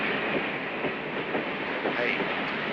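A train runs on rails with a loud, dense, continuous rumble and rattling roar, close by and steady throughout, with a faint clickety-clack texture.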